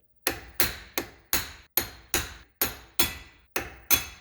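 Hammer blows on a Pontiac G8 driveshaft hanger support bearing ring out in a steady series of about ten sharp metallic strikes, each with a short ringing decay, close and alone.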